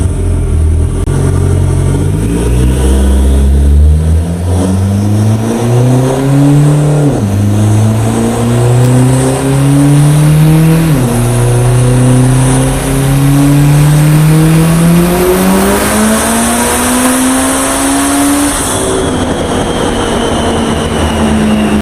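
A first-generation DSM car's turbocharged engine pulls hard on a dyno at 40 psi of boost, its loud, steady roar climbing in pitch through repeated rising sweeps before backing off near the end, with no voices over it.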